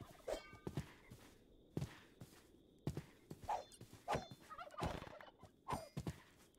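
Repeated Minecraft turkey gobbles in short bursts, mixed with thuds and footstep-like knocks, fairly faint against a quiet background.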